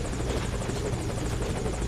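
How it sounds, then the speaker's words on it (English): A helicopter in the video game Metal Gear Solid V: Ground Zeroes roars steadily and loudly, its rotor thumping continuously and close with no speech. "Put the target on the chopper."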